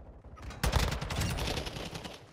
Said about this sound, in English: The hard gunshots.